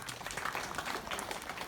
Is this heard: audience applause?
yes